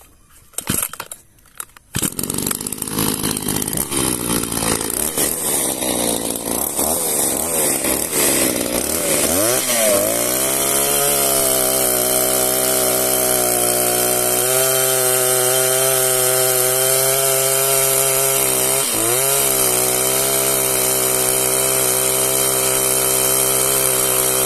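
An Echo 281 chainsaw roars at high revs as it cuts, loud and close after a brief startup, with the engine pitch dipping and bogging down under load at a couple of points.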